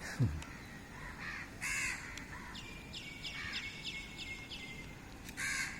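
Crows caw several times in harsh, repeated calls outdoors over a steady background hiss, with other birds chirping faintly.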